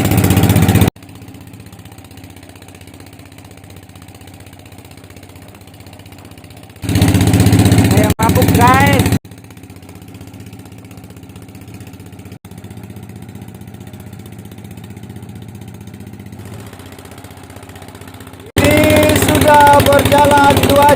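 Small fishing boat engine running steadily at the mouth of a river during mini trawl shrimp netting, a continuous mid-pitched drone with louder bursts partway through and near the end, and voices talking over it at times.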